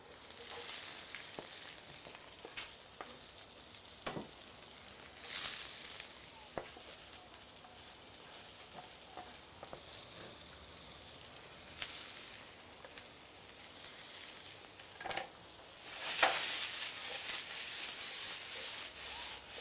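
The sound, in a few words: onion and ginger frying in pan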